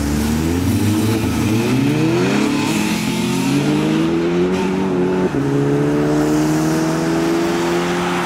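Modified cars revving hard and accelerating away from a spring action day at Castle Combe circuit, engines climbing through rising harmonics in close succession, loud and near, with a gear-change dip partway through and no talking.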